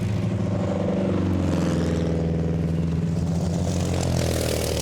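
Historic racing cars at a Goodwood Members' Meeting passing down the pit straight, engines droning and rising in pitch as they rush by, continuous and fairly loud mechanical roar.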